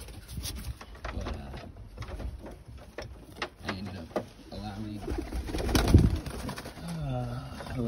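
Tippler pigeons coo in a breeding loft, with soft repeated rolling coos close by, someone talking over them and some light shuffling and clatter in the loft.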